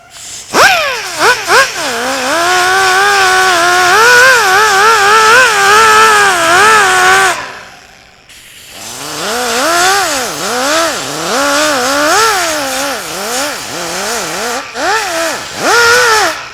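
A power sander barely spinning, lightly scratching high spots off the metal of a 1932 Ford during a chop job: a steady whirring drone with wavering pitch, a brief pause near the middle, then more uneven whirring.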